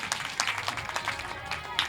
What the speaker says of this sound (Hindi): मैं चाहती हूँ एक बार जोरदार तालियां उनके स्वागत में बजाइएगा।